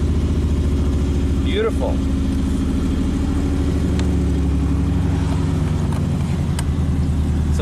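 A 1995 Chevy Camaro V8 turns over with a loud, close, steady mechanical drone that continues throughout, and a voice speaks briefly over it.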